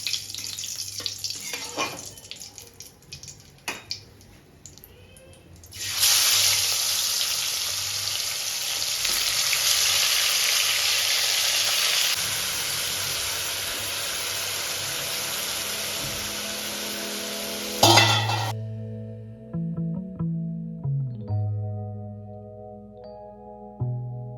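Marinated chicken drops into hot oil already scented with cinnamon, cloves and bay leaves for a chicken biryani, raising a loud, steady sizzle that runs for several seconds. Then it cuts off into quieter clinks and stirring.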